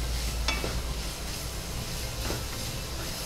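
Carrot filling for holige fries in a pan with a steady, dense sizzle, broken by a couple of faint stirring clinks.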